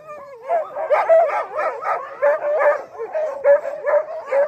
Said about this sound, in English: own team of five beautiful Alaskan Huskies